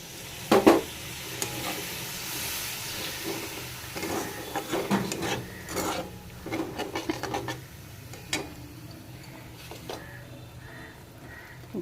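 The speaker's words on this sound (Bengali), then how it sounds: "মশলাটা ভাজা হয়ে গেছে, এবার মশলা বাটি ধোয়া জলটা একটু দিয়ে দেবো।" Spice-bowl rinse water poured into spices frying in a pan for a chicken curry, giving a close, irregular crackling sizzle with stirring scrapes and short bursts, no talk.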